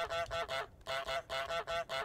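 A cartoonish goose honks in Untitled Goose Game, loud and close, in a rapid, evenly spaced series of about eight nasal honks split by one brief pause, with no talk over them.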